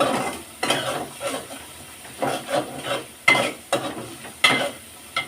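Shrimp frying in a pan, the sizzle broken by a rhythmic series of scraping stirs from a spatula, about a stroke every half second, close up and with no speech.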